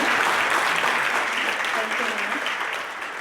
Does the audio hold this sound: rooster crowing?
no